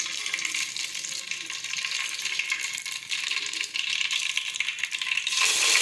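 Mustard seeds, cumin and asafoetida sizzle in hot oil with a steady, bright hiss that builds slightly louder toward the end, with no voices.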